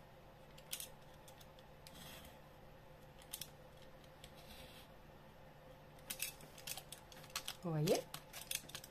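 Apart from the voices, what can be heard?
cutting squares out of a Christmas card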